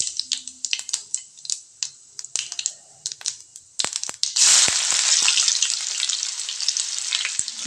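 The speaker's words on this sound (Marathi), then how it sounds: "कांदा छान आपला लाल असा तळून घ्यायचा आहे" Chopped onion hits hot oil in a wok already tempered with mustard seeds and cumin. Scattered crackles and pops give way to a loud, steady, close sizzle that carries through to the end, with no talking.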